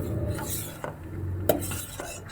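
A spoon stirs date palm jaggery rice pudding thickening in a pot after cardamom powder goes in, repeated scraping and clinking strokes against the metal over a soft simmering bubble, close up with no talk.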